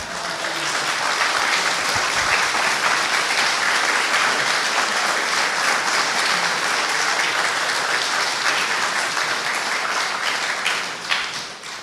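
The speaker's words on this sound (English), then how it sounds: "Please give him a round of applause." A seated audience at a Chinese American WWII veterans' Congressional Gold Medal ceremony in Northern California gives a steady, dense round of applause that holds at full strength for about twelve seconds before tapering slightly at the end.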